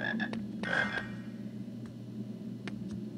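A frog croaks in the PC game Harry Potter and the Sorcerer's Stone, a few short rasping croaks in quick succession over a steady low game ambience, with no talk.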